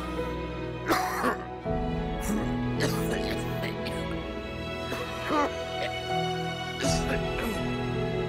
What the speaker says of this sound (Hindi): आपकी खांसी बढ़ती चली जा रही है